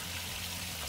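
Water dumped out from a farm stock-watering setup in a paddock, heard as a steady, fairly quiet rush and trickle that continues without a break, with a low hum underneath.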